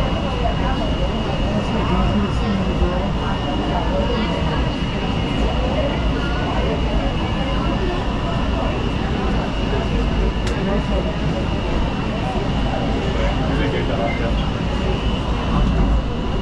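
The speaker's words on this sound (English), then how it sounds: "This train has arrived at Kualakai," A Hawaii Skyrail elevated train pulls into Kualakai station, a steady loud rumble and rolling drone with a faint high tone throughout, heard up close from aboard for the whole stretch.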